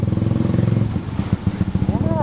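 A mud-caked motorcycle rides a muddy, rain-soaked village road in Gebang, Cirebon, its engine running steadily and closely while people talk over it.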